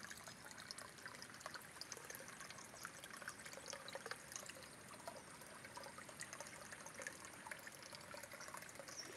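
Mountain spring water flowing over deep rocks, a steady broadband rushing and trickling that stays even throughout, moderately close with no voices.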